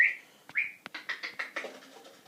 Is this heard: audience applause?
no